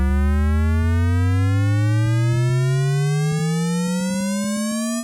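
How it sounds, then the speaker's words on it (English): A synthesized tone pitch-shifted upward by two octaves, 24 semitones, using the GS-DSP Magic Pitch frequency shifter: one steady electronic tone gliding smoothly and continuously upward for about five seconds, loud and alone. "I will use the GS-DSP Magic Pitch Frequency Pitch Shifter to have the tone rise 2 octaves or 24 semitones"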